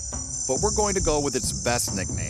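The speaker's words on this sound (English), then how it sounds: "That's the call of the local crickets near Hinton," Haglid crickets, the insects near Hinton, Alberta, sing loudly at night in the woods, a steady high shrill chorus running throughout while someone talks over it.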